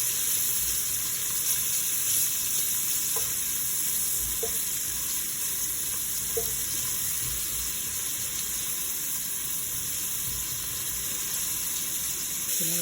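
Onions and tomato sizzling and frying in a pan while being stirred for a shrimp dish, a steady, moderately loud crackle throughout, with occasional light scrapes of the utensil.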